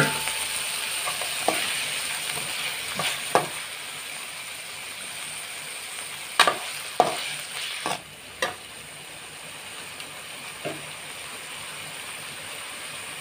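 Green chillies and tomatoes fry with onion in a pan for shavige uppittu, a steady soft sizzle broken by sharp spatula clinks and scrapes against the pan at irregular intervals.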